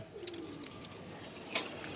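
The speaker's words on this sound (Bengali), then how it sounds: "আমার ঘরের লক্ষ্মী কবুতর ছিল এটা" A pigeon at a pigeon farm gives a soft, low coo near the start, faint and fairly close against quiet background noise, with a brief sharper sound later.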